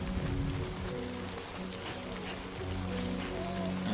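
Steady rain falling in the video game Death Stranding 2: On the Beach, a dense continuous patter with a low hum underneath, holding at an even level for the whole stretch.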